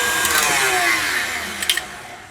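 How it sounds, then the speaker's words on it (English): An electric stand mixer whips Italian meringue for chocolate macarons in a steady, loud whirring drone, with a couple of brief clinks near the end. "Stop your mixer."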